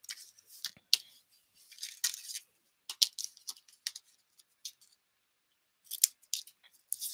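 Scissors snipping a small sheet of paper: a series of close, crisp cuts in short irregular bursts with brief pauses between, quiet otherwise and with no talk.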